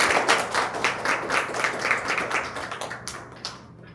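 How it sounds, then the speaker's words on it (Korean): Audience applause welcoming a speaker at a virtual convergence education seminar, a room of people clapping in a rhythmic patter that gradually thins and fades. "큰 박수로 맞이해 주시기 바랍니다."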